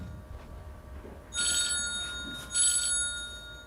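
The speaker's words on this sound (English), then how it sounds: "bloody hell, that is a phone call" A phone charging indoors rings in two bright electronic bursts separated by a short gap, fairly loud and close over a quiet room with no talking.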